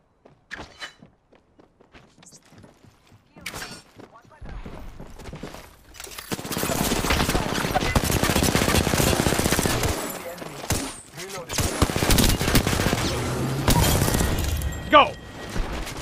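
Bursts of video game gunfire from Apex Legends, loud rapid volleys and single shots packed into the second half, with quieter thuds and footstep-like sounds leading in.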